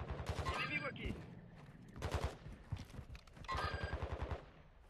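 Bursts of rapid gunfire in a battle royale video game, fairly faint and distant, come in three clusters of quick shots, with a voice talking intermittently between and over them.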